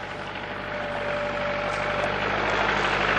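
A steady tractor engine idles at close range, a low rumble with a faint whine running through it and no voices over it.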